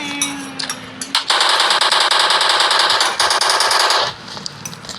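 Automatic gunfire from a powerful weapon in the mobile game Indian Bike Driving: a loud, sustained rattling burst of rapid shots lasting about three seconds, with shorter bursts and game sounds before and after.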